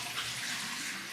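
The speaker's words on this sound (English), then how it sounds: "run it under some cold water" Cold tap water runs steadily over a bath cloth at a sink during a bentonite clay face mask routine, a continuous close splashing rush with no talk.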